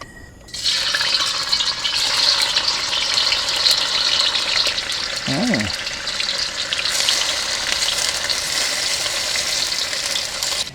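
Banana frying in cooking oil at a campsite produces a steady, bright hiss that starts abruptly and holds for about ten seconds. It is fairly loud and close, with a brief faint tonal sound near the middle.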